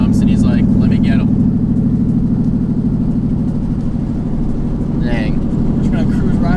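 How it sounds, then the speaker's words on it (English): Subaru WRX engine revving hard through quick downshifts with open header dumps, a loud steady drone up close with sharp rasping bursts near the start and around five seconds, while people talk over it. "Hit some downshifts real quick."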